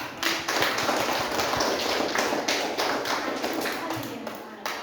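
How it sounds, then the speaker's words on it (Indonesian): Students in a junior high school classroom in Insana clap their hands together in a dense, lively burst of applause that holds steady before tapering off. "Ayo kita tepuk tangan."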